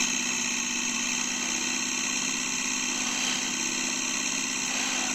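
A helicopter engine idles on the ground at Oakland International before departure with the rotor brake still on, giving a steady, continuous hum and whine with bright tonal layers and no voices.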